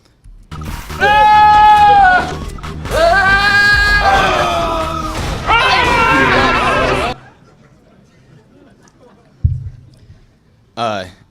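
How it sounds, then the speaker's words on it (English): Screaming goats used as slide transition sound effects: several long, loud, human-like bleating yells in a row, then silence and a couple of short bursts in a conference hall. "I had the idea to do slide transitions of screaming goats"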